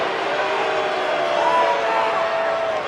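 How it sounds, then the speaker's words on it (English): Basketball crowd in London's O2 arena, Michigan against Kentucky, booing in a steady, sustained low roar of many voices at moderate distance, holding without a break. "the boos from the crowd"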